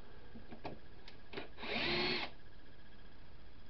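A power screwdriver driving a screw, with a few clicks and brief handling noises before one short whirring burst of the motor, close by and moderately loud.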